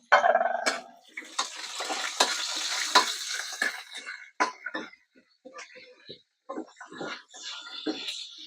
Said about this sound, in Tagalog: Yung ating gisado ay unahin natin ang garlic.